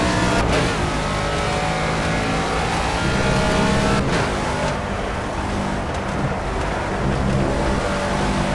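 Race car engine in the Project Cars video game, a continuous loud roar with revving swells and whining tire and road noise throughout, no voices.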